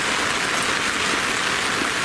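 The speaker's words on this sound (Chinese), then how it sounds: "今天下雨啊" Rain falls steadily at a reservoir, a dense even hiss of drops hitting water and ground. It is close and continuous, with no voices.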